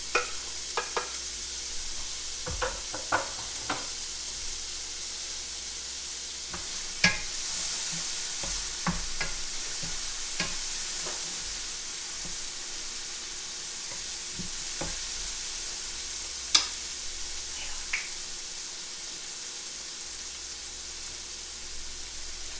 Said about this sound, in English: Next, we'll throw in the onions.